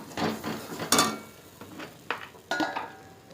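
Ground cumin and spices sautéed in a pan, heard as a short run of stirring scrapes and light clatter over a quiet sizzle, with a few sharper knocks of a spoon against the pan.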